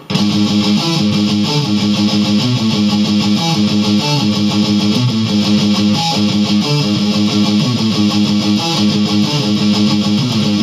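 Loud distorted electric guitar plays a fast, steadily picked riff, a continuous chugging stream of rapid notes with no pauses.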